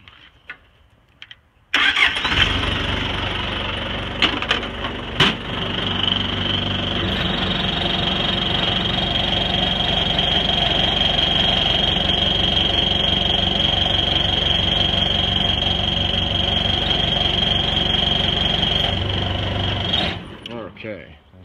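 An old tractor engine, hot-wired with a screwdriver, cranks and catches after a few clicks, then runs at a steady, loud, close idle for about eighteen seconds before cutting off.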